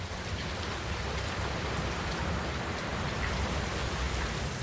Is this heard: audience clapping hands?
no